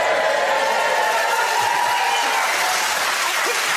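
A studio audience at a comedy panel show claps loudly and steadily, with dense, even applause that lasts the whole stretch and shows no sign of fading.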